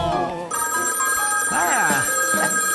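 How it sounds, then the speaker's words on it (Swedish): A telephone bell rings loudly and steadily through a summer-holiday opening number, its tones continuing as a voice speaks over it. "Vänta, vem är det som ringer nu?"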